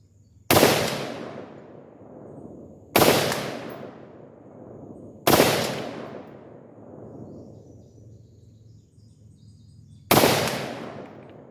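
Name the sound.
gunshots from Bear Creek Arsenal 878N 11.5" upper rifle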